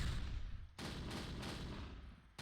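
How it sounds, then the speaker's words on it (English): Sherman tank in the Close Combat game, Panthers in the Fog, firing during a 1944 Normandy battle: a loud, close gunfire blast with a brief gap and then a second sustained burst, with no voices. "That Sherman is alive. No. It's shooting at somebody."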